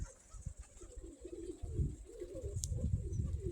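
Pigeons at a dovecote give soft, low cooing calls over a quiet outdoor background, with one brief sharp high click partway through.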